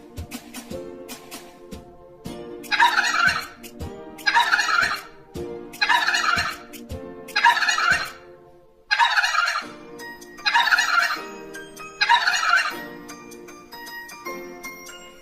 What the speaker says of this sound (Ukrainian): Це берекоче індик.